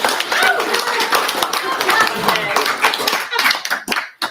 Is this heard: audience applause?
yes